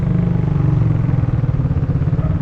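A motorcycle engine labors steadily up a steep mountain road, a loud, continuous low drone with rough clattering texture and no letup, close to the microphone.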